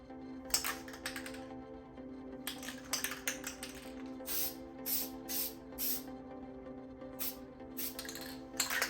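Aerosol bursts of Plasti Dip sprayed onto the Dual Motor badge on the back of a red Tesla Model 3, applied as very light coats: about eight short hissing blasts of varying length, close and clear, with gaps between them.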